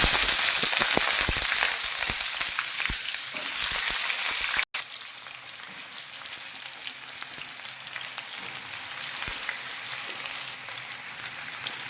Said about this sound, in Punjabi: ਇਹਨਾਂ ਨੂੰ ਆਪਾਂ ਬੈਂਗਣਾਂ ਨੂੰ ਸੈਲੋ ਫਰਾਈ ਕਰਨਾ